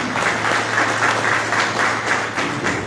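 Steady, dense applause from an audience at a Vidya Bharati education event in Sanguem, Goa, loud and sustained with a rhythmic swell in the clapping throughout.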